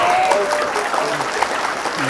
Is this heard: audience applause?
yes